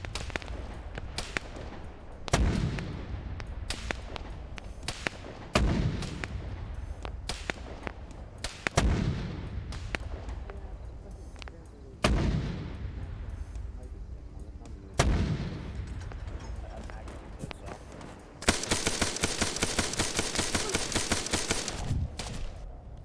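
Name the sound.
artillery shells firing and exploding in a video game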